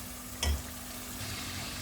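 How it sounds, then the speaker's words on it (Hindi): Masala for a potato and egg curry stir-fried in a pan, giving a soft, steady sizzle with one brief scrape of the spoon near the start, with no talking. "अब मैं इसकी अच्छी तरह भुनाई करूँगी, बहुत अच्छी तरह इसकी भुनाई करनी है हमने।"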